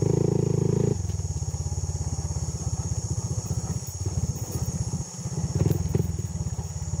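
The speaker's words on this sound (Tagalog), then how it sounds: "Sniper yung motor." A Yamaha Sniper motorcycle engine runs close by while riding, a steady rapid pulsing thrum that shifts after the first second and rises briefly near the end.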